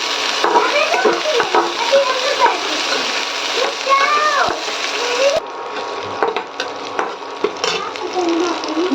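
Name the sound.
spices frying in hot oil while tempering dal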